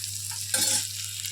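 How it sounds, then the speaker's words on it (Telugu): Ingredients frying in ghee give a close, steady sizzle, with a brief louder scrape of stirring in the middle. No one speaks. "ఇవి నెయ్యిలో బాగా వేగాలి."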